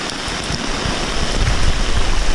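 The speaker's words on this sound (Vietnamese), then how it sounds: "Nay trời đang mưa to và nước suối đang dâng rất là cao." Heavy rain pours steadily in the Truong Son jungle beside a swollen stream, a dense, loud, continuous wash of water with no voices.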